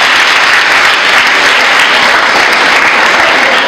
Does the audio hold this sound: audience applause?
yes